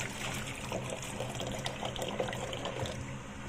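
Tap water running steadily into a sink while bitter gourd is rinsed by hand, a continuous close splashing wash with faint clatter and no talking.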